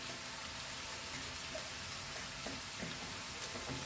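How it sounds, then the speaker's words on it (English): Cabbage fries in a wok for vegetable fried rice, giving a steady, even sizzle close by with faint scraping, and no talking. "Now let's add our cabbage to this"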